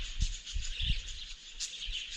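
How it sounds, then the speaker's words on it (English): Budgies chirp and chatter outdoors at a scenic bush campsite in the Aputula lands, a busy high twittering mixed with a breeze and a few low soft thumps, fairly faint and continuous with no talking. "Yeah, the birds, they're just firing up, having a chat."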